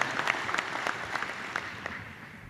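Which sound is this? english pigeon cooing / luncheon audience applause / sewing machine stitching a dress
luncheon audience applause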